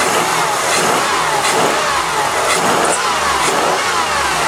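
A Chrysler convertible engine roars loudly and steadily close to the microphone, a sustained hard rev with a slight waver in pitch.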